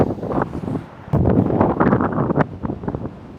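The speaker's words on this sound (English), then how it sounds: "I was hoping to film this video here on the beach, but it's a bit windy." Wind on a beach buffeting the microphone, low rumbling gusts that rise and fall in uneven bursts over a few seconds, loud and close.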